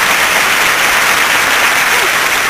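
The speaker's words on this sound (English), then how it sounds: "With applause like that, one day you, too, may be with us in this rarefied atmosphere." A studio audience breaks into dense, steady applause for John Ritter, a loud, continuous wash of many hands clapping at once that holds level throughout.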